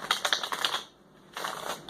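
A deck of tarot cards being shuffled by hand gives quick, soft papery riffles in two bursts with a short pause between, close and fairly quiet, with no talking.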